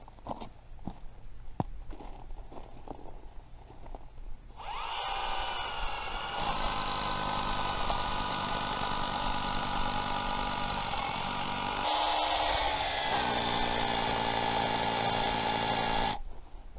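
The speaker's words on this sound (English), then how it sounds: "what I'm going to do is drill down at an angle" A power drill bores down at an angle into a block work footing at an old French house, starting after a few scattered knocks and running loud and steady with shifting pitch for about twelve seconds before stopping.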